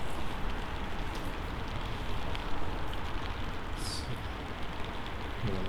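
Steady rain falls outdoors during a professional disc golf round, making a constant broadband hiss of drops on surfaces throughout, with no voices.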